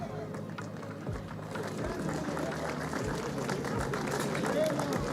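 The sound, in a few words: crowd applause at kart racing podium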